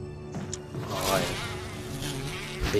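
Buzzing bees in Resident Evil HD Remastered, swarming inside a laboratory room: a steady, fairly loud insect drone with wavering pitch that carries throughout the short stretch.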